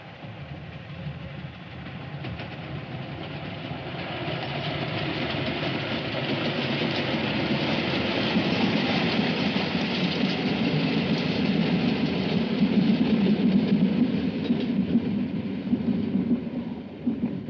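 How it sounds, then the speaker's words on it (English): A steam train running along tracks beside water in a 1960 Antonioni film scene: a steady, broad rumbling roar of engine and rolling wheels that swells gradually and holds, continuous and fairly loud with no talk. "So the train going horizontally, steam coming out, and water behind it"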